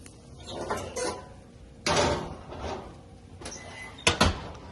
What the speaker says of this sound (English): now we will take and put this into the oven